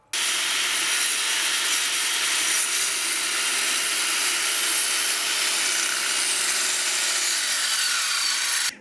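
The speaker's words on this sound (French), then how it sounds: "Là, je suis sur une scie circulaire de 1300 watts." A 1300 watt circular saw running on a FOSSIBOT F1200 portable power station, a loud, steady high whine held for nearly nine seconds before cutting off abruptly.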